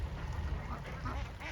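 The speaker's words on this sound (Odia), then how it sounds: "ଏଠି ବତକ ଫାର୍ମ ଅଛି ତ ସେଥିପାଇଁ କି ବତକ ଏଠି ବୁଲୁଛନ୍ତି ପାଣିରେ ଅଳ୍ପ ପାଣିରେ" Ducks wading in shallow water on a duck farm make a dense, continuous chorus of quacking that sounds close and fairly loud.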